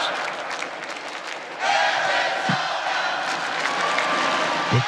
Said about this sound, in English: that's because the crowd is roaring